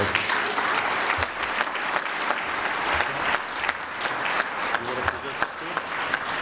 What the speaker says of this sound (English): Jack, we applaud you and thank you for all that you have done to make Dulles great